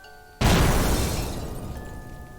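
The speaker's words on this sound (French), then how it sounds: "quand d'un coup, un coup de feu." A single loud gunshot sound effect in a horror story narration, bursting suddenly out of near silence and decaying into a long, fading rumble, with no voice over it.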